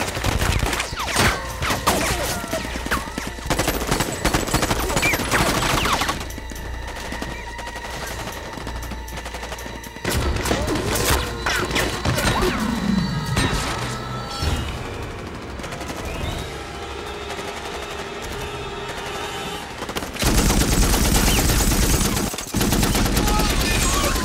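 Bursts of automatic gunfire and rapid shots ring out at a cemetery shootout in Terminator 3, loud and sustained across the scene, with brief lulls and a heavy renewed volley near the end, shouting voices faint beneath.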